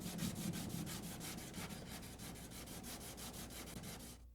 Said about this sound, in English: When dry, fill any low spots with Bondo and sand smooth.